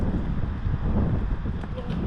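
Steady wind gusting across an open boat-yard setting around a Colvic Watson 35 boat project during stormy weather, a continuous broadband rush with low rumble, no distinct events.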